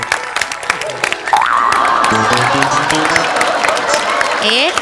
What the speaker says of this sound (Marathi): टाळ्या वाजवा जरा.